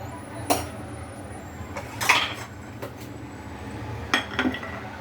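Metal utensils clink sharply against a cooking pot while black urad dal and kavuni rice kali is transferred, a few scattered knocks spaced over a low kitchen hum, with a quick double clatter near the end.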